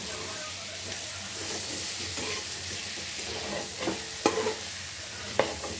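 Chopped coriander is stirred into capsicum sabji frying in oil in a pan, producing a steady soft sizzle with occasional scraping knocks of the spoon, fairly faint and close.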